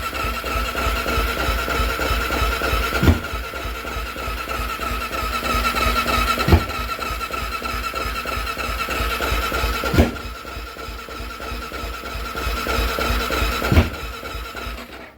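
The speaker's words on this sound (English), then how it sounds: "It'll backfire, but it don't want to fire all the way." A cranking engine runs rough and struggles to catch, with a steady churning drone broken by four sharp pops spaced a few seconds apart.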